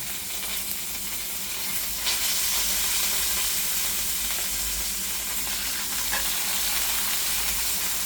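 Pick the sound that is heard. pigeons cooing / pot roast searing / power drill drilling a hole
pot roast searing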